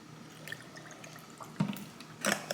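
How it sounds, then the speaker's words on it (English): Stok cold-brew coffee poured over ice in a glass: faint trickling and dripping liquid with a few small splashes and clinks, growing into short bursts of pouring near the end, with no talking. "And then the Stoke brand is the one that I really like for my coffee. So pour some of this in."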